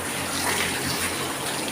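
Water gushes steadily from a tap into a tub at a pig farm, a continuous broadband rush held at an even level from start to finish with no talking over it.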